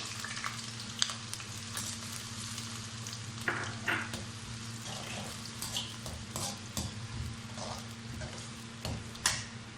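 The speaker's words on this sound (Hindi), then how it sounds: "अब इसके अंदर हम प्याज डाल लेते हैं। बिस्मिल्लाहिर्रहमानिर्रहीम। प्याज को हम हल्का फ्राई कर लेंगे।" Onions dropped into hot oil fry with a continuous close sizzle, broken by brief scraping stirs and clicks against the pan, steady throughout without speech.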